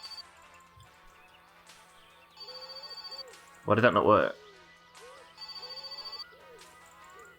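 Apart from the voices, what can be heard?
telephone ringing in the video game My Summer Car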